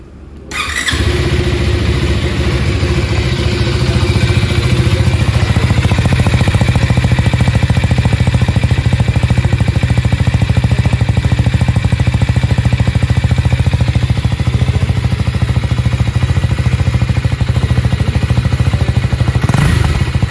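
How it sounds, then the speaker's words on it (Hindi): A 2024 KTM Duke 390 with an underbelly exhaust, idling after start-up in a loud, steady, gravelly single-cylinder thrum that holds close and constant for about twenty seconds, with no voice. "ये इसका भाई अंडरबेली एग्जॉस्ट, और वो थी उसकी आवाज़।"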